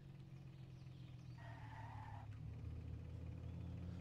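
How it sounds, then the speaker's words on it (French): A car drifts in a role-play driving video game, a faint steady engine drone under a brief squealing tire skid partway through, with the motor swelling a little afterward. "Vas-y, tape un gros drift chez Jojo."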